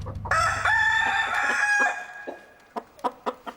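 Chickens cluck in short, sharp bursts while a rooster lets out one long, bright crow close by, and the crow fades into scattered clucks.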